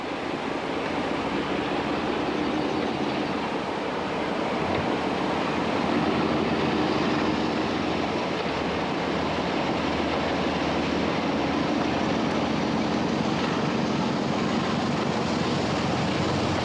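Preserved diesel locomotive 45133 double-heads Class 46 peak 46045 at the Midland Railway Centre, Butterley, giving a steady, loud, continuous engine roar and rumble that holds evenly throughout with no voices.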